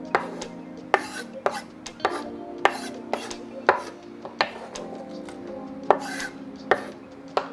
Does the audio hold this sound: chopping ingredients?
yes